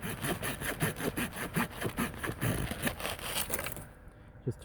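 The saw blade of a Leatherman Surge special edition multitool cuts a notch in wood with quick, rhythmic back-and-forth rasping strokes, close and fairly loud, ending in a brief pause and one last scrape.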